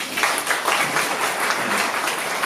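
Applause from a church youth group congregation honoring group leaders after a retreat, a steady dense wash of clapping at moderate loudness throughout, with no talk over it.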